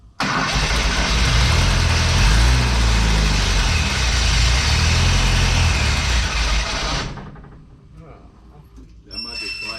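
A 1977 Volkswagen bus engine, running for the first time in 30 years, roars loud and rough for several seconds before dropping off. Voices are heard over it.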